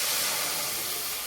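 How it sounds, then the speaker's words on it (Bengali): Water hits a hot wok in one loud, broad hiss of steam that fills the whole moment and eases off slightly at the end, close up with no voices. "কড়াইয়ে দেবো জল"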